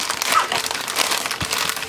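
Plastic bag crinkling and crumpling close by while doll clothes are unboxed, a continuous rustle with a few sharper crunches and no talking.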